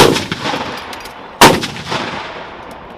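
Rifle gunfire during Army National Guard infantry tactics training: a loud sharp shot opens, another cracks sharply midway, each followed by a long decaying echo across open ground.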